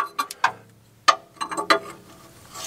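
A wrench working on the O2 sensor of a 2011 Ford Fiesta, giving a series of sharp metallic clicks and taps in irregular bursts, close and fairly loud.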